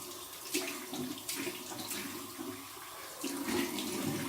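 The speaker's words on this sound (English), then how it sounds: "then I go with my cold water rinse here." Cold water runs steadily from a faucet for a rinse, a continuous close splashing hiss with slight surges, no talk.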